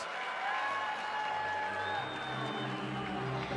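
A home crowd roars and cheers at a Belarus vs Spain basketball game in a Minsk gym, a loud, continuous wash of massed voices with a few whistle-like tones riding on top.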